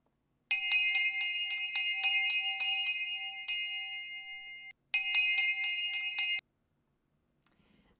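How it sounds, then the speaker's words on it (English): A school bell rings for children to line up in the yard, sounding as a rapid, loud, bright electric ringing that runs about four seconds, breaks off briefly, then rings again for another burst and stops. "The bell is heard for the children to line up in the yard."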